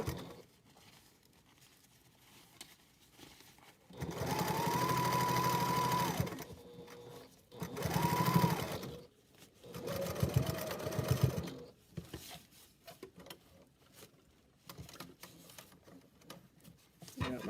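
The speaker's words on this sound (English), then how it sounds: "Hopefully my machine will sew another 6 inches without having a crisis." A sewing machine stitches a fabric packing cube while its bobbin is giving trouble. It runs in three close, loud bursts of whirring stitching, each a few seconds long, with short quiet pauses between them.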